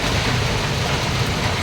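Sudden rain falling on Christmas Day in Palawan, a dense, steady hiss of downpour filling the air with a low rumble underneath, continuous and fairly loud.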